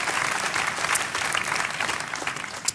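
A studio audience on a French television show applauds footballer Eric Cantona, a lively and fairly loud burst of clapping with a few sharper individual claps standing out.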